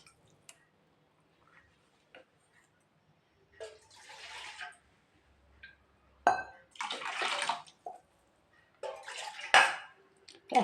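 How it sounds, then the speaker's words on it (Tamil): Water splashes and pours in short bursts into a pot of cooked lentils for rasam (pepper water), with light clinks of metal utensils and quiet gaps in between. "பருப்பு வேக வச்சு எடுத்து வச்சுருக்க பருப்பு தண்ணி அதில் சேர்த்துக்கலாங்க"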